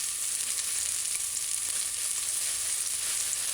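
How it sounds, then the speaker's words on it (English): Diced onions, scallion and a sprig of thyme sauté in coconut oil in a pan, giving a steady, close, even sizzle that holds throughout with no voices. "just allow it to saute for a couple of seconds"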